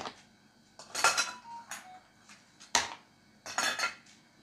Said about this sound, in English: And then we're gonna put a few cubes of ice.